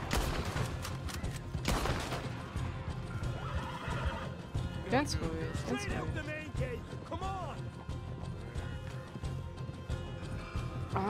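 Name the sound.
horse neighing, from video game Red Dead Redemption 2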